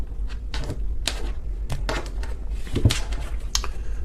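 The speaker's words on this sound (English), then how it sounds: "I'm going to cut the deck." Tarot deck being cut and shuffled by hand, a series of sharp card snaps and riffles in quick irregular bursts, close and crisp.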